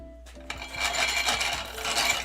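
A grinder poorly set up and wobbling grinds animal feed into a finer texture, giving a close, continuous gritty rasping whir with a soft rhythmic knocking underneath after a brief quiet start.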